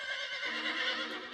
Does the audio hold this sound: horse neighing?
yes